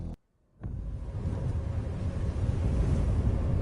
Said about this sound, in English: The wind sharp and strong.